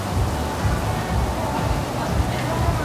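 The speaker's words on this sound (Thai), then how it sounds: "ฝนตกค่ะ" Rain falls steadily at Universal Studios in Singapore, a dense, even hiss of drops with a low rumbling undertone running unbroken for a few seconds.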